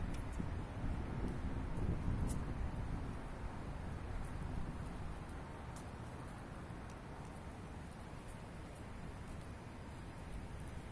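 Steady, heavy wind buffeting the microphone with a low rumble throughout, no one speaking.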